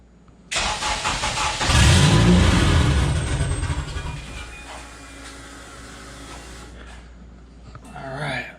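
A Honda K24 engine swapped into a Porsche 911 cranks and fires, roaring loudly up close with a strong rev before settling into a rough idle, then sputtering as it dies.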